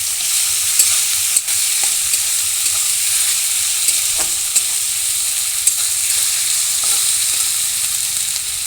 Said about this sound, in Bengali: শুকনো লঙ্কার গুঁড়ো, এই সবকটি উপকরণ একসাথে ভালো করে নেড়ে চেড়ে নেব।